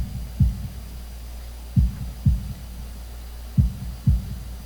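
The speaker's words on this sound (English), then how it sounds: "holding my breath in an attempt to hear my heartbeat" Heartbeat sound effect from the Katawa Shoujo visual novel: low, muffled thumps in paired lub-dub beats, repeating at a slow, steady pace over a faint hum, with no voices.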